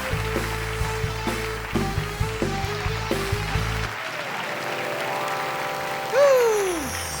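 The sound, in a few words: audience applause at a stand-up comedy show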